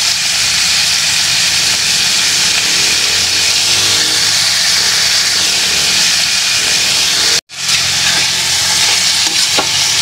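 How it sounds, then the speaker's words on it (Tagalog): Black pepper sautés in a pan with frog meat, a loud continuous sizzle and hiss up close, briefly cut out once near the end, no voices. "Gisa-gisa lang ng mabuti"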